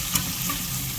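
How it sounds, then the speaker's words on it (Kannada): Onions sizzle loudly as they brown in a pan, with a dense continuous frying hiss and faint stirring close by. "ಇದು ಕದ್ದು ಬಣ್ಣಕ್ಕೆ ಬರುವ ತನಕ ನೀವು ತಿರುಗಿಸ್ಕೊರಿ. ಇದು ಈರುಳ್ಳಿ ಅಷ್ಟು ಕಂದು ಬಣ್ಣ ಬರ್ಬೇಕು."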